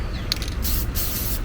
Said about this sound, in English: just do a couple test sprays